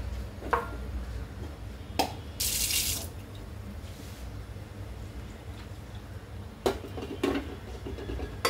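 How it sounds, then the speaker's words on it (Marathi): Tap water runs into a kitchen sink as a potato is rinsed before pressure-cooking for a mustard-oil jackfruit curry, with a brief louder gush mid-way over a steady low wash and a few light clicks and knocks. "एक बटाटा आहे, ह्याच्यामध्ये धुवून घेऊया"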